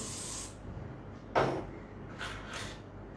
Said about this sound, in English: Again use the hard spray.